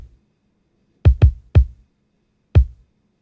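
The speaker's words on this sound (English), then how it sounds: "Here is the original kick drum pattern." A kick drum pattern plays alone: three quick deep thumps close together, then a pause and a single fourth thump, each punchy and short with silence between.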